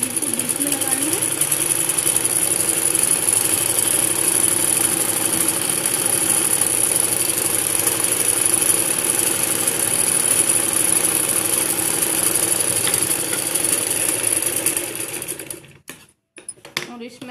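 A sewing machine stitches a salwar, running steadily and loud at close range with a continuous whirring hum for about fifteen seconds before stopping abruptly, followed by a brief quiet.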